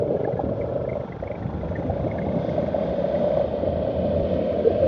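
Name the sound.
Royal Enfield Bullet motorcycle exhaust while riding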